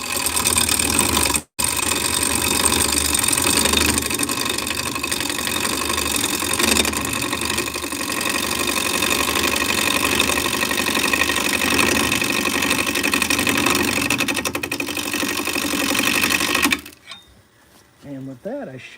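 A bandsaw motor runs up to speed, passing 1,000 RPM, with a steady loud mechanical whir and hum. It holds constant for about seventeen seconds, then cuts off into near quiet with faint handling noises.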